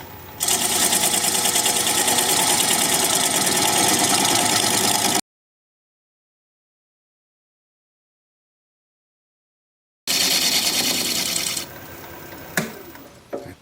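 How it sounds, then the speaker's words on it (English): A 3/8-inch standard-grind bowl gouge cuts away the tenon on a mulberry live-edge bowl spinning on a wood lathe at about 600 RPM. The steady, close cutting noise breaks off abruptly, then returns and tapers toward the end. "I'm going to take a 3/8 inch standard grind bowl gouge and begin to removing the tenon."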